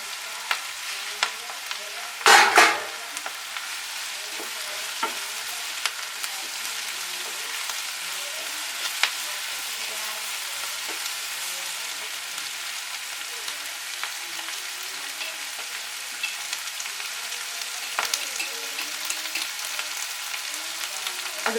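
Chopped capsicum and onions fry in a pan with a continuous bright sizzle. Early on there is one short clatter of stirring, and after that the hiss carries on steadily.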